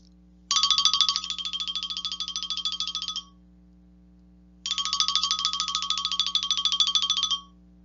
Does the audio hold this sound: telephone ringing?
yes